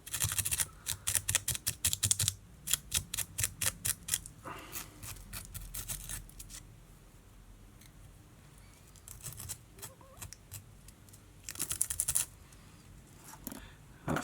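Scissors snip waste thread at the vise while a Watten Warrior fly is tied, a quick run of sharp, close clicks and snips in bursts, then quieter fiddling and another cluster of snips near the end; no one speaks.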